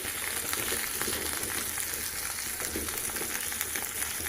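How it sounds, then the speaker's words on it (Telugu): Mint leaves fry in a pan with coconut for egg masala, a soft, steady sizzle close by with a faint crackle throughout. "ఇప్పుడు దీంట్లోనే వేసేసుకొని కొద్దిగా ఫ్రై చేసి"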